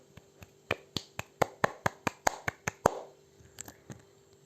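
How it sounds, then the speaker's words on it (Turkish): A few children clap in a classroom with a quick run of about a dozen sharp, close, fairly even claps, then a pause and a few scattered claps. "Evet çocuklar alkışlayın lütfen."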